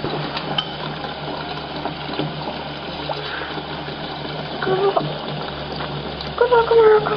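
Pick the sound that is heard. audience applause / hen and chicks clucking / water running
water running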